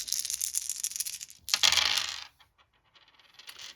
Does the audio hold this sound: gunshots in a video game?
no